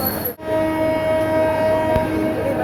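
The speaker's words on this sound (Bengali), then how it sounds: "তো মহানগর এক্সপ্রেস ট্রেনটি ঢাকা কমলাপুর রেল স্টেশন থেকে রাত 9:23 ছেড়ে যাচ্ছে।" Mohanagar Express pulling out of Dhaka Kamalapur railway station at night: a steady, loud rumble of the train with a sustained horn-like tone running throughout, broken by a brief dip near the start.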